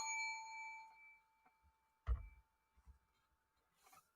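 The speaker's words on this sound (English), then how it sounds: "Bing me that bell." A bell rings with a bright sustained ding that fades slowly, followed by a sharp low clanging strike and a few softer knocks, with a faint hiss at the end.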